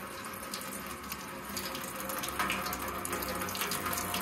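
Water drains from a rare old Mity Kat bulldozer left dead for decades, a steady close splashing trickle that runs continuously and grows slightly louder partway through, with no talking.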